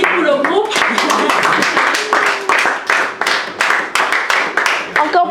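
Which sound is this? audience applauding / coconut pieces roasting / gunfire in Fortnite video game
audience applauding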